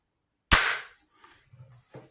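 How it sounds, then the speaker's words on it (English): A brass-barrelled flintlock blunderbuss fires one sudden loud bang that decays over about half a second, followed by faint handling noises. "These do make an impressive bang and a lot of smoke."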